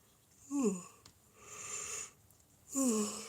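A person yawns twice close by, each a drawn-out voiced sigh that slides downward in pitch, with quieter breathy air between them.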